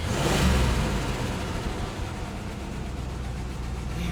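A car engine runs steadily nearby, a low even rumble that swells slightly at first and then settles into a smooth idle.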